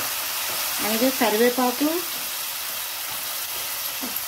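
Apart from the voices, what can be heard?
prawns with tomato and curry leaves frying in a pan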